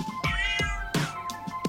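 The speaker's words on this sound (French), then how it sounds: "Tu as entendu ça? On dirait un chaton." A cat gives several high, kitten-like meows in quick succession, loud and close, with no talking.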